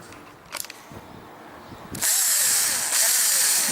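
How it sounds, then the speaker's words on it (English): A power drill drives a long screw into a cracked plastic RV ladder end cap, starting after a few quiet taps and running loud and steady with a brief pause and changes in pitch as it bites. "I just use my power drill to get it most of the way in there"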